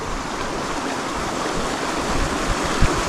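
A waterfall on Five Mile Creek in Alabama, near Graysville, gives a steady broadband rush of falling and flowing water, continuous and fairly close, with no talking.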